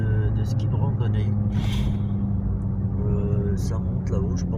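A car climbs a mountain road over the Col du Lautaret in the Hautes-Alpes, heard from inside as a steady low engine and road rumble while someone talks over it.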